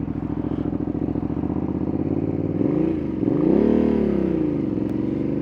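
Ducati Panigale V2 S motorcycle engine running up close under a rider, a steady rumbling drone that rises in pitch as it revs partway through, then eases back down to a steady pull.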